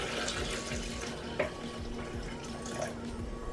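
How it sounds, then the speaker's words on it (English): Hot water being poured into a pot of Mexican meatball soup, a steady trickling, splashing flow with a few drips, up close and moderately quiet. "I'm going to add about 2 cups of hot water."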